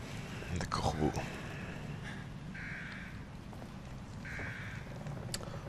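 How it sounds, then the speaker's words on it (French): Crows cawing in The Evil Within horror video game, a few harsh calls set back in a dark, rumbling ambient soundscape, with quiet speech over the top. "Des corbeaux."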